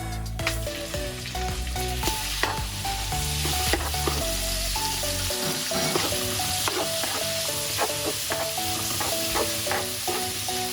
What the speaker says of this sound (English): So we're going to cook the pork for around 4 minutes just to see that it gets cooked.